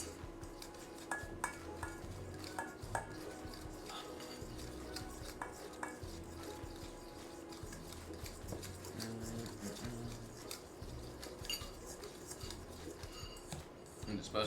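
A spoon stirs keto cheesecake dough with melted butter in a bowl, steady close scraping and clinking against the bowl with a soft murmur of voices now and then.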